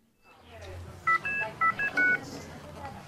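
A telephone gives a quick run of five bright, distinct beeps, loud and close, like keypad tones, with people talking around them.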